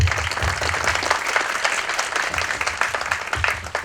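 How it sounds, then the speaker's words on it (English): An auditorium audience at a student idea pitch event applauds the young entrepreneurs, a dense, sustained roar of many hands clapping, fairly loud and continuous with a faint crowd murmur beneath. "Let us give a big round of applause to our young students as they take the first step on their"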